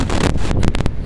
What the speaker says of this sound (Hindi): तेज हवाएं